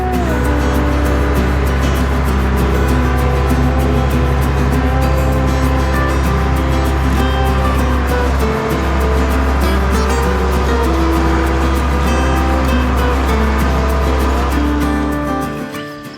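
A vehicle towing a hay bale trailer to the barn: a loud, steady engine drone close to the mic, with constant low rumble and road noise for the whole stretch, easing off at the very end.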